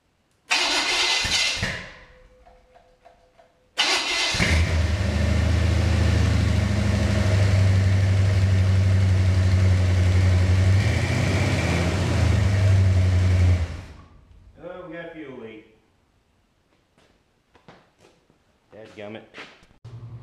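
A Chevrolet 350 V8 with a new hydraulic flat tappet camshaft cranks and catches, then runs at a loud, steady high idle for about ten seconds before cutting off; someone talks afterward.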